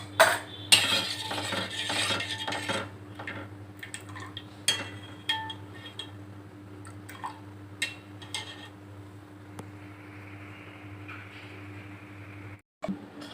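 Beetroot juice being stirred in a pan on the stove as it thickens, with close utensil scrapes and clinks against the pan that come in bursts early on, then thin out over a steady low hum.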